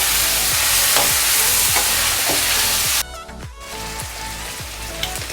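Meat with onion, garlic and ginger sizzles loudly in a hot pan while being stirred, with rhythmic scraping strokes over a steady crackle that quiets partway through.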